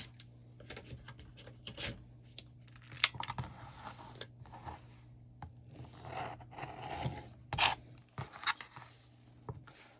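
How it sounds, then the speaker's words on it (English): Scissors cut interfacing fabric to size for a cloth face mask, giving quiet, close snips and rustling scrapes at an irregular pace over a low hum. "so I'm going to go ahead and cut that to the size of my mask."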